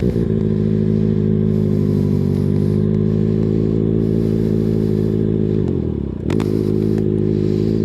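A motorcycle engine idles loud and close with a steady rumble, then bogs down and sags as the brake is applied before the clutch is pulled in, briefly catching again with a clatter.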